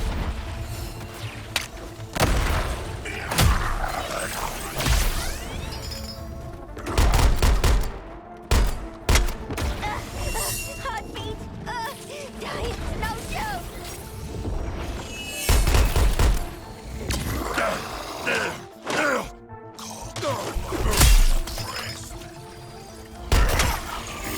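Explosions and a fusillade of gunfire boom through a chaotic battle in Suicide Squad: Kill the Justice League played as King Shark, with repeated loud blasts and crashes over a constant roar of combat.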